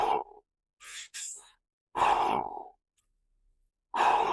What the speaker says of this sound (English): it's called modified Wim Hof breath